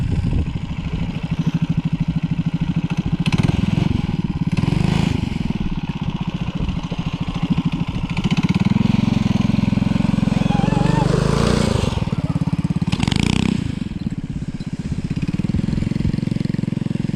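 A minibike engine idles outdoors in the snow, a close, steady putter that swells and dips as the throttle shifts, with people talking over it.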